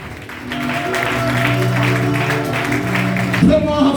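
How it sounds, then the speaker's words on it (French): A church congregation claps loudly for the Lord, a steady wash of applause mixed with sustained organ-like musical tones and voices throughout. "Acclame très fort pour le Seigneur."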